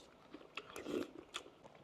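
Chicken balut, a boiled fertilized egg with soft embryo, being bitten and chewed up close, with a few crisp bites and soft wet mastication sounds at a quiet level.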